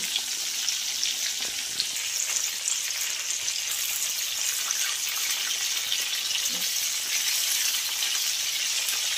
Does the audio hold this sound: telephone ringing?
no